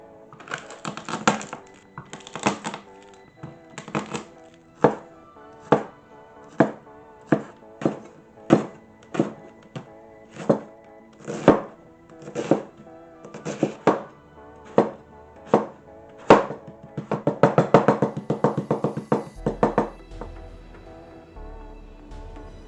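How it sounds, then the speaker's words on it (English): Leek, potato, onion, garlic and thyme chopped with a knife on a board for a miner's pie, steady close loud thuds in a regular rhythm, faster clustered chops near the end. "I'm going to chop up leek, potato, onion, garlic, and thyme"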